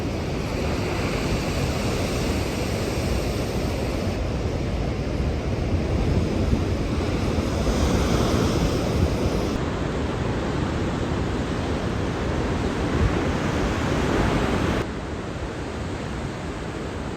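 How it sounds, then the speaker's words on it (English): Heavy ocean surf pounds coastal rocks during a king tide on the Oregon coast, a loud continuous roar of crashing waves with no voices and a slight drop in level near the end. "The thunder of the waves, the force of the ocean, together, the crashing of the surf sent vibrations through the air and the ground."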